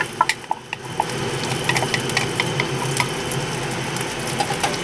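Rice and egg are stir-fried in a hot wok, with a steady sizzle and repeated sharp scraping clanks of a utensil against the pan, nearby and without speech.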